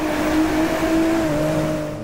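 Nissan Skyline GT-R R34 V-Spec II drifting in the racing game Driveclub on a Norway track, its engine holding a steady, loud droning tone that shifts slightly in pitch throughout.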